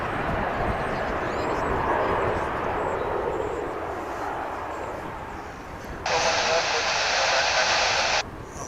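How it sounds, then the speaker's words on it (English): An American Airlines jet departs DFW Airport for Albuquerque, a moderate engine roar that swells then eases, partly covered by a burst of radio-like chatter near the end. "we've got this American flight going out to Albuquerque"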